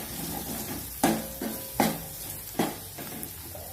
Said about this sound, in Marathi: तर ते आपल्याला ह्याच्यामध्ये टाकून द्यायचे आणि हे सर्व छान मिक्स करायचे आपल्याला